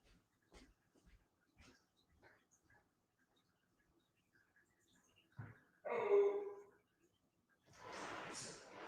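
A dog snuffles and breathes near the microphone in a quiet room, with soft faint clicks early on, then a short whimpering whine and a burst of panting.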